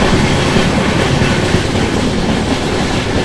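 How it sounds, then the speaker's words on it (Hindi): The Adilabad Tirupati Krishna Express rushes past on Indian rails, a loud, steady, close roar with rhythmic wheel clatter filling the whole stretch, no voices. "Wait, this is the Adilabad Tirupati Krishna Express."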